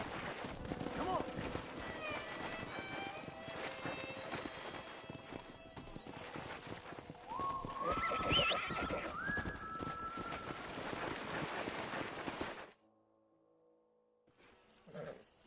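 Horses in Red Dead Redemption, with steady clip-clopping hooves and repeated neighs and whinnies over a western ranch soundscape with birds, fairly loud, then dropping to near quiet near the end as a voice is heard.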